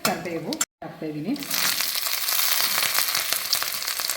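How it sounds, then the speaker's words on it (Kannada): Mustard seeds, chana dal and curry leaves drop into hot oil and sizzle loudly and steadily, with a short spoken phrase just before the frying rises. "ಸಾಸಿವೆ, ಕಡಲೆಬೇಳೆ ಮತ್ತು ಕರಿಬೇವು ಹಾಕ್ತಾಯಿದ್ದೀನಿ"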